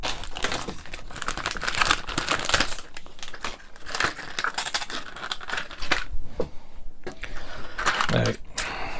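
Thin plastic bags crinkle and rustle as small plastic model parts for a Fanhome Iron Man Mark III kit are pulled out, with steady crumpling, rattling handling noises close up and no speech.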